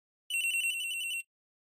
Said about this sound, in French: Dring, dring, je suis le téléphone chiant.